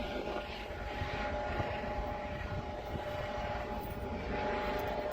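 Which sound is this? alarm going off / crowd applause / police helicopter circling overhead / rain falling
police helicopter circling overhead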